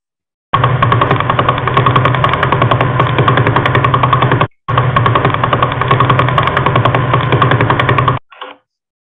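A pulsar radio signal rendered as sound: loud, rapid buzzing pulses like a machine rattle, running continuously in two long bursts with a brief gap, then a short fading tail.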